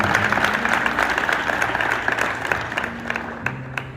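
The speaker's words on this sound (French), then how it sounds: "applaudis bien" Applause from a church congregation praising the Lord, a steady wash of clapping with a low musical hum underneath, fairly close and continuous.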